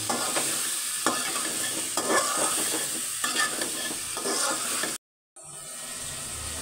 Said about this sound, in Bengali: আলুটা ভালো মতো নেড়ে চেড়ে কষাবে